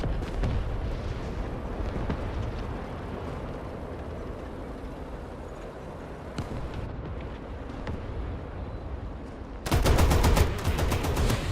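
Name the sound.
enemy tank firing in video game War Thunder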